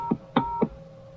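Three short telephone keypad tones dialed in quick succession on a call-in line, each beep brief and clear over a faint steady hum.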